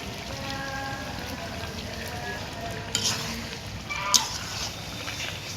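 Potatoes added to a pot for chicken biryani fry with a steady, dense sizzle, and a couple of sharp pops and clinks of stirring rise briefly above it.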